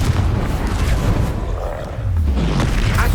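A Confringo explosive spell in Hogwarts Legacy lets out a loud, deep booming rumble that fills the moment, with a brief dip before the blast swells again.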